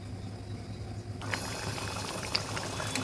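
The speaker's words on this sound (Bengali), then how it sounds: "এবার ফুটতে দেব।" Mixed dal of several lentils with green chilli and hot water bubbling steadily in a pot, a continuous close simmering boil with soft pops that grows fuller partway through.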